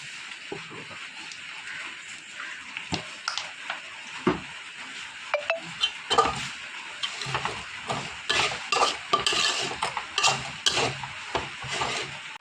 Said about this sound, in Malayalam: സവാളയും മസാലകളെല്ലാം മൂത്ത് വന്നിട്ടുണ്ട്.